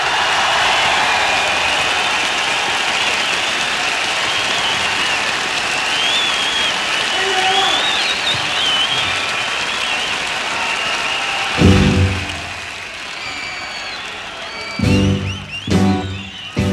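Enormous round of applause from a concert audience in London, 1974, greeting the band: dense, sustained crowd clapping and cheering throughout, with louder bursts of shouts and music-like thumps near the end.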